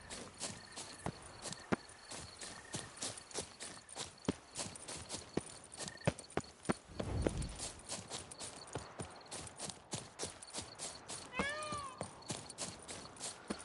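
Horse hooves clip-clopping in The Witcher 3, a steady run of hoofbeats across the whole stretch with ambient game sounds and a brief low thump midway.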